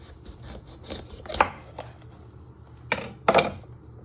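A knife cuts the lid off a bell pepper for Mediterranean stuffed peppers: a few soft, scattered cutting and scraping strokes, then two sharper, louder slicing bursts near the end, close and alone.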